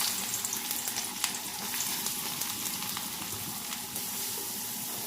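Onion frying in hot oil with garam masala for an egg curry, a steady bright sizzle with soft crackles and occasional stirring scrapes throughout.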